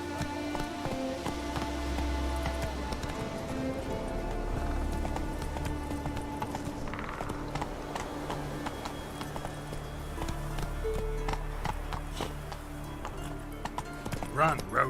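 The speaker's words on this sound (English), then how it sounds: "Run, Roach." A horse gallops in The Witcher 3 video game, rapid rhythmic hoofbeats on the ground running continuously under game ambience and a voice.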